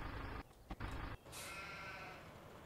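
Sheep bleat in the Farming Simulator 2015 video game, two or three loud, close, strained calls in quick succession followed by a softer hiss, with no one talking.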